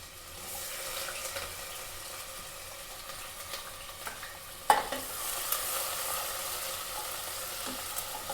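Onions sizzle in a pan as a spoon stirs them, a moderate steady frying hiss with occasional scraping knocks and one sharp clink midway.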